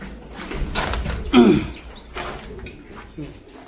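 On a farm with chicks, birds make brief soft coos and calls close by, mixed with faint rustling and a person's nearby talking.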